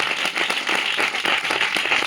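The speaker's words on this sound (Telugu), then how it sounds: "కొట్ట బిగ్గరగా చప్పట్లు కొట్టు" A church audience claps loudly in dense, rapid bursts, close and continuous throughout with no pauses.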